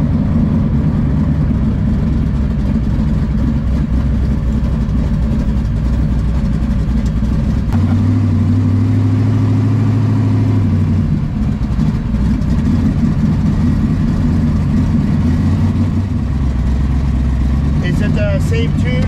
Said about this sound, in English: 8-second Drag Week car here in Las Vegas